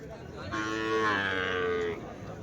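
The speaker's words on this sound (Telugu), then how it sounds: "ఇవన్నీ కుర్రాళ్ళు ఎద్దులు" A young bull lows once at a cattle market, a single loud, close moo lasting over a second, with faint crowd murmur behind.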